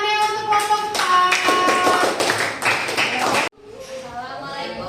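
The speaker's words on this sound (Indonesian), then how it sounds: "silakan tepuk tangannya untuk kelompok 4" A classroom group gives a short round of hand clapping for the presenting group, loud and close, lasting about three seconds before cutting off into quieter talk.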